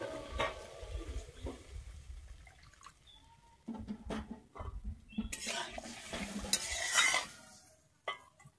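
Water from a rinsed bowl is poured into fish masala frying in oil in a pan, making splashy, bubbling sizzles and clattering scrapes of utensils against the pan, with quieter stretches between louder bursts.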